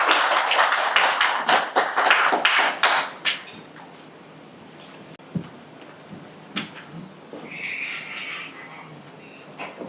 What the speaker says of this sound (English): Let's clap for him even as he works.